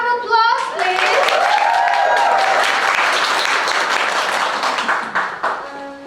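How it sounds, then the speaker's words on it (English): A round of applause from an audience at a summer camp showcase, steady dense clapping that holds for several seconds before tapering, with a brief tonal voice at the very start. "One more round of applause, please."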